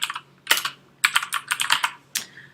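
Computer keyboard typing in quick bursts of key clicks, three clusters separated by short pauses, close and clear with no voices.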